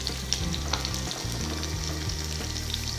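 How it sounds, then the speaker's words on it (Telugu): Drumstick pieces fry in a pan and are tossed back and forth, making a constant hiss with scattered crackles and occasional scrapes against the pan. A low steady hum sits underneath, and no one talks. "మునక్కాడల్ని కొంచెం అటు ఇటు కదుపుతూ ఫ్రై చేసుకోవాలి"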